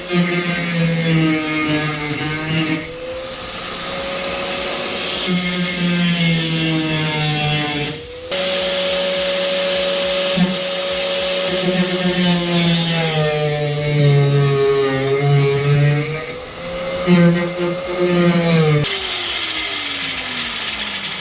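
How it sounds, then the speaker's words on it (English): An angle grinder cuts through a metal cross brace inside a Ford Transit van during a window installation, a loud continuous whine close by whose pitch sags and rises under load, with a couple of brief cut-offs. "Grinder!"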